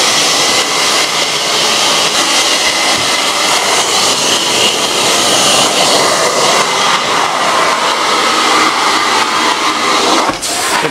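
A carpet cleaning machine pulls hard suction through its hose in a home, making a loud, constant broadband roar that holds steady throughout with no speech.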